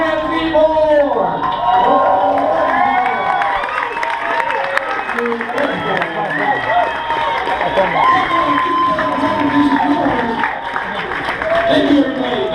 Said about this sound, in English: Everybody, man, you guys start clapping now.